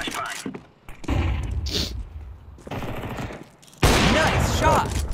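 Gunfire in the video game Counter-Strike 2 comes in sharp rapid bursts and single shots, loud and close, mixed with players talking over voice chat.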